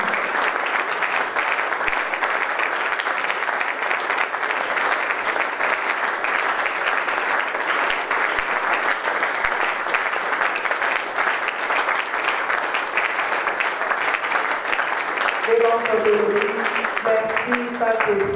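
A church congregation claps in worship, with dense, sustained applause that holds steadily loud for about fifteen seconds before giving way to a voice at the end.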